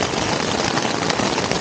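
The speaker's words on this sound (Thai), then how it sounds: "ฝนลงแบบไม่ได้ตั้งตัวเลยนะครับผม" Sudden rain pours onto a camping tent at a hillside campsite, a dense, steady hiss of drops drumming on the fabric throughout, loud and close with no talk.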